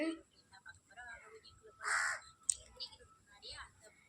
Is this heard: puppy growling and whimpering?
no